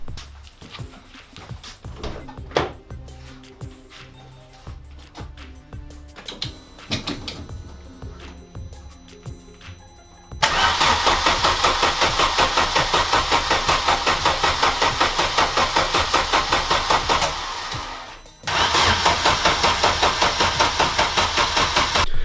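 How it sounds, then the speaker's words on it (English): A Vauxhall Corsa with a Z20LET turbo engine cranks with uneven bursts, then catches and runs loud and steady, briefly dips, and settles back into a rough, rapid idle close by. "it's time to see if this thing will start"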